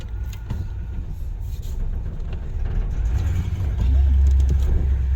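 A 1967 Chevy Bel Air, revived after sitting 16 years with carburetor upgrades, pulls away, its low engine rumble building steadily and growing louder over a few seconds.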